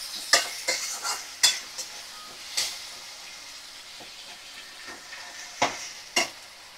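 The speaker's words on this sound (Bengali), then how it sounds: "তার ভালো করে দেখো আমি মশলা কষিয়ে নিচ্ছি।" Spices with garam masala fry in a pan while a spoon stirs and scrapes them in a series of sharp, close strokes over a soft, steady sizzle.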